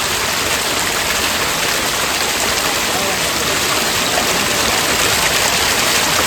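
Fresh water gushes loudly from a pipe in a village, filling up for washing a carpet, as one constant, close rushing roar.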